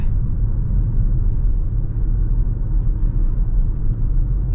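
A 2024 Toyota RAV4 Prime plug-in hybrid driving in EV mode, heard from inside as a steady low road rumble and tire noise, constant and fairly loud, with no voices.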